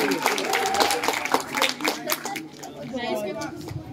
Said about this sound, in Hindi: एक बार जोरदार तालियां सूर्यांशी सिंह के लिए।